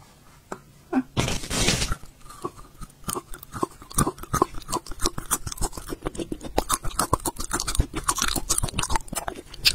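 Crunchy bites into sweet cartoon-shaped cookies, one with a possible filling, in close ASMR style: a loud bite followed by a steady run of sharp, rapid crunching and chewing with no voice.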